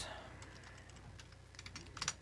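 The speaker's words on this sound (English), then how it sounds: "I keep fat fingering my keyboard" Fingers clatter on a computer keyboard in quick, uneven bursts of clicks, close and fairly quiet, with a low steady hum underneath and a faster flurry of keystrokes near the end.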